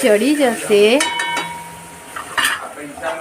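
A utensil stirs potatoes and poha seasoned with turmeric and salt in a pot, giving close scraping and ringing metallic clinks in short strokes, with no talking.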